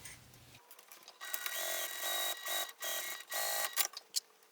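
A sewing machine top stitches a fabric wallet in several loud, close bursts of rapid whirring stitching, separated by short pauses.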